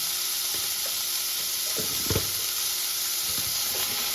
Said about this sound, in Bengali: এই আমটা একটু ভেজে নিলাম সর্ষে আর শুকনো লঙ্কা ফোড়ন দিয়ে।